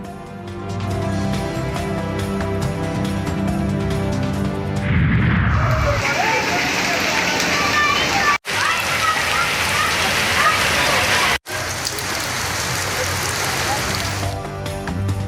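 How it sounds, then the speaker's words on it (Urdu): Heavy monsoon rain pours down in Jamshoro and Mirpur Khas, Sindh. A dense, steady roar of rainfall starts after a tonal opening and continues loud and unbroken, with two brief cuts. "جامشور و میرپور خاص میں موسلادھار بارش"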